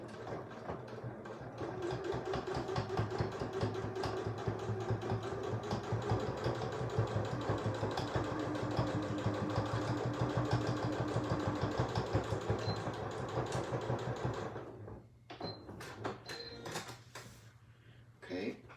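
A sewing machine runs steadily for about fourteen seconds, stitching the lining seam of an easy handmade bag, then stops; a few softer handling noises follow in the quieter tail.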